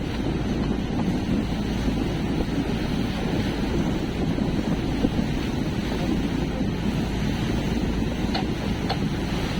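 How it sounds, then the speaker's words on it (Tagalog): Small fast boat fitted with an oversized engine running at sea, a constant close roar of motor, water rush and wind buffeting on the microphone, steady throughout with no talk. "Maliit lang kasi yung bangka, tapos yung makina, medyo malaki yung makina. Kaya mabilis-bilis manakbo."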